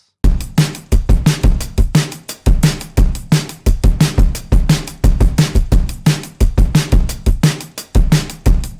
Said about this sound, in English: let's listen to the fully produced version of the drums